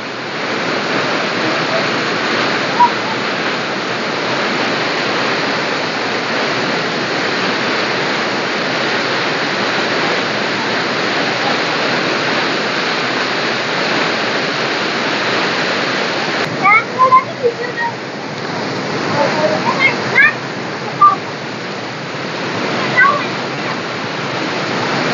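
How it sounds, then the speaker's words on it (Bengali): Devi's Fall waterfall in Pokhara, Nepal, gives a loud, constant roar of rushing water that fills the whole stretch, with a few faint brief sounds late on. "ঝর্ণার নাম হলো ডেভিড ফলস।"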